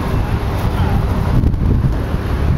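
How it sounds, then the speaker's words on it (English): Strong wind buffets the microphone outdoors in a wooded area near Big Ben in London, a loud, steady low rumble with gusty swells throughout and no clear voices. "It's very, very, very, very, very, very windy today."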